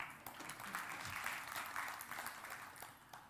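Applause from an audience in a hall during a session, a faint, distant wash of many hands clapping that holds steady for a few seconds and then tapers off.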